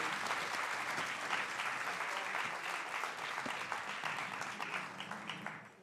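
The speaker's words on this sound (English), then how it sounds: "Let's give another round of applause" An audience claps in a sustained burst of applause that fills the room, then gradually thins and fades out.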